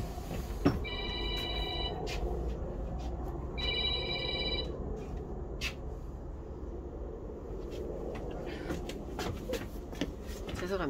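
Telephone bell ringing in a shop, two bursts of bright electronic trilling about two seconds apart, followed by clatter, knocks and someone talking.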